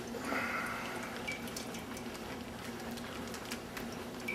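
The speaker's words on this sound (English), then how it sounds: "What I'm going to do is simply pour out" Chicken wing juice pours from bags into a smoker's drip pan, a steady splashing, trickling stream with small drips, close and continuous throughout.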